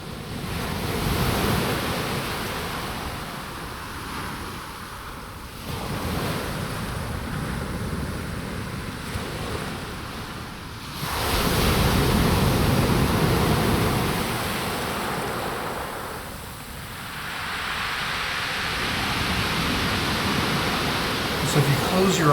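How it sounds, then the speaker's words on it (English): Ocean waves crash and wash up on a shore, captured as a binaural recording; broad roaring surges swell and recede in slow cycles, loud and close, with no talk over them. "the waves are crashing and coming right to your feet"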